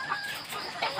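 Chickens on a poultry farm, recently moved from homemade cages to steel cages, give a few faint, soft clucks in a brief burst, with no talk.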